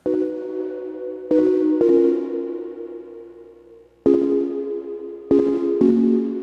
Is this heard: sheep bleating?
no